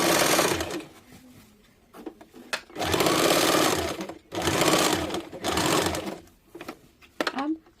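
A sewing machine stitches petticoat panels in several bursts of fast, rattling needle strokes close by. Handling noises and a voice speaking come in the pauses between the bursts.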